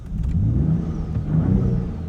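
A 2019 Ford Raptor pickup truck engine with stock exhaust runs steadily with a low, throaty rumble, rising slightly as it revs; fairly close and continuous, no talking.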